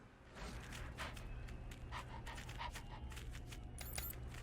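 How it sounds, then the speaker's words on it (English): Dogs in the game Wasteland 3 pant steadily and let out low, close growls over a continuous ambient background, with a few yips near the end. "The pack leader growls at you, suspicious."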